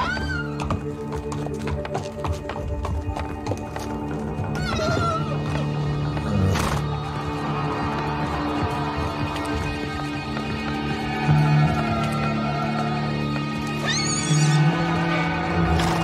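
A horse neighs loudly several times within a song, with rhythmic clip-clop of hooves and thumping beats running throughout.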